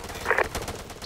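Suppressive gunfire during a squad patrol in a military shooter game at Agia Marina, a brief burst of several rapid shots at moderate distance.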